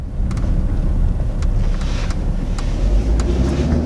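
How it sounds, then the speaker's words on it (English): A 2016 Ford Wildtrak with a 3.2 litre five-cylinder engine driving uphill, a steady low engine drone heard from inside the cab with road rumble and some wind noise. "So the engine note's actually quite nice, I quite like it."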